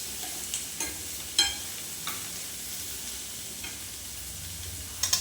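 A tadka of salt, chili and turmeric sizzling in desi ghee for a simple dal, a steady close hiss with a few light clinks of a stirring spoon, no voices.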